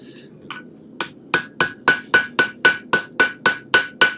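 Hammer blows fold over the tip of a sandwich damascus steel blade, about eleven sharp metallic strikes in a quickening steady rhythm after a couple of lighter taps, close and loud with ringing overtones.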